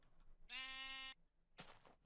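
A Minecraft Beta 1.7.3 spider gives a single bleating cry that sounds like a sheep, about half a second long, followed by a short breathy hiss. It is fairly faint and heard alone, without speech.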